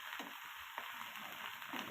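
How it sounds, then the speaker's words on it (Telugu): Quiet, continuous sizzle of tempering spices frying in hot oil for a coconut and raw mango chutney, with faint crackles and pops close by and no voices. "పోపు దినుసులన్నీ వేసుకొని బాగా వేయించుకోవాలి"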